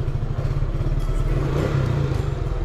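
A warmed-up motorcycle engine idling steadily before an oil change, a loud close rhythmic putter with mechanical clatter that holds an even pace throughout.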